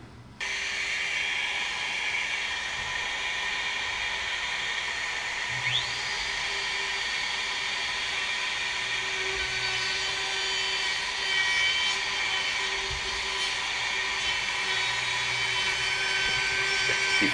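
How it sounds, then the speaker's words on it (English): Handheld wood router rounding off the edges of a wooden bookshelf, a loud continuous high-pitched whine held steady throughout with slight shifts as the bit meets friction, no talking. "You can see me struggling with the router a bit, because I was getting some friction from the bottom."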